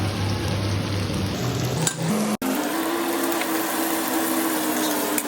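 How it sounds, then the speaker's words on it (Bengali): Sliced onions fry in oil with bay leaf, dried chili and garlic, a steady close sizzle with a faint hum, briefly cut before resuming. "দিয়ে আমি একটু ভাজা ভাজা করবো"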